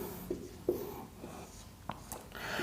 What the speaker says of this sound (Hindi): और इसके बाद एक शब्द मैं लिखता हूं व्याकरण।